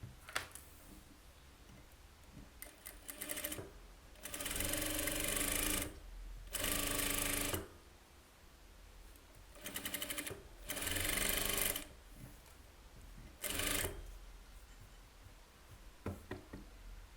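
A sewing machine stitching a lined blouse in several bursts of a few seconds each, separated by pauses filled with small mechanical knocks and ticks, close and clear with no talk.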